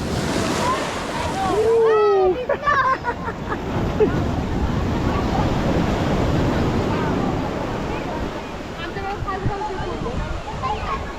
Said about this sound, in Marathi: मित्रांनो बघू शकता किती सुंदर हा समुद्र आहे